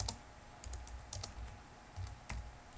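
Quick bursts of keystrokes on a computer keyboard, irregular and close, tapping out a short command in a quiet room.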